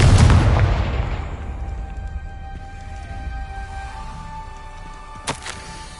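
Confringo blasting spell exploding in Hogwarts Legacy: a loud booming burst at the start that rolls off into a long decaying rumble with lingering tonal hum, then a sharp crack near the end.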